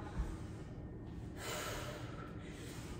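Breathing in and out during a weights and mini-band workout, a steady airy breath with a stronger exhale surging midway, close and alone.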